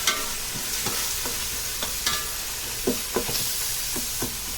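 Onions sauté for Tenkasi-style mutton biryani with a steady sizzle, while a spoon stirs the pan in repeated scraping strokes every second or so, close and without talk.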